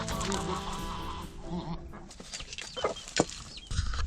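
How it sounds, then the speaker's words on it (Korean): A rooster lovesick over a hen keeps making strange, strained clucking and squawking calls, loud and close, with bursts of vocalizing over farmyard background noise. "삐삐의 미모에 푹 빠진 토르는 알 수 없는 소리를 계속 내면서 너무나도 괴로워한다."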